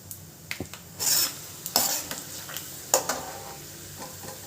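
Chana dal is tossed into hot oil for mango chitranna, giving a light sizzle under sharp metal clinks and scraping strokes in the pan. The clatter comes in several distinct bursts.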